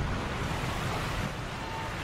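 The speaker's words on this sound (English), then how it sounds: "The noise of the roaring waterfall is deafening." A roaring waterfall in the video game Sekiro: Shadows Die Twice gives a steady, dense wash of rushing water that fills the whole short clip at constant loudness.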